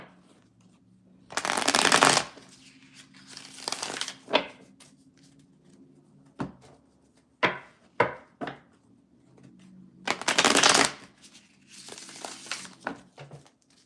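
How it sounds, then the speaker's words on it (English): Tarot cards riffle and shuffle in repeated bursts, with softer taps and slides between them, close and crisp with no talking. "Let's get some shuffling going here."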